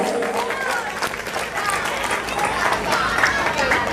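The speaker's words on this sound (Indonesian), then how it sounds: "Tepuk tangan untuk Ananda Kanza." Crowd applause at a tahfidz graduation ceremony, dense and steady throughout, mixed with crowd noise and a voice speaking over it.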